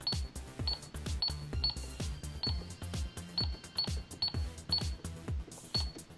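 Toy cash register with a built-in calculator, its keys clicking and drawer mechanism clattering in a steady run of sharp plastic beeps and clacks, close and fairly loud, with no talking.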